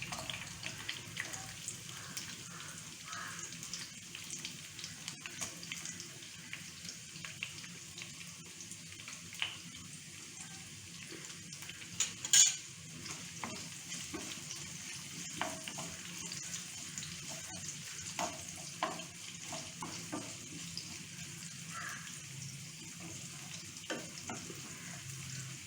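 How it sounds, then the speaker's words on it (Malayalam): Mustard seeds spluttering and onions frying in hot oil for a sambar, a steady low sizzle with scattered small pops and crackles, moderately near, with no talking. "നമ്മുടെ കടുക് പൊട്ടി തുടങ്ങിയിട്ടുണ്ട്."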